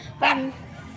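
A wolf in Minecraft gives a single short, close bark, a sharp yip-like call in a quiet moment.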